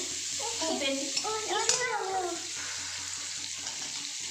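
Sliced onion goes into garlic frying in a pan, with a continuous close hiss and stirring; a voice briefly talks over the first half.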